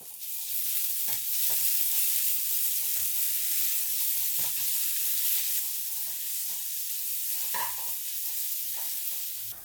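Chopped tomato sizzles steadily in a hot pan, close up, with occasional scraping strokes of a spoon stirring it.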